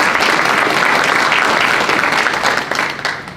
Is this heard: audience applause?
yes